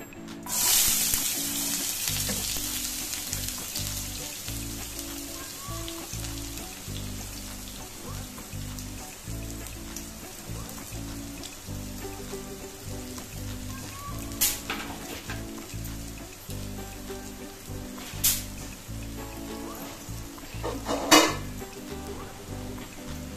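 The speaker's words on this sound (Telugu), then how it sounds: "ఆనియన్స్ వేగుతున్నాయండి" Onions frying in a pan for a curry, a soft steady sizzle with a low hum beneath and a few sharp clicks or taps scattered through, moderately close and without talk.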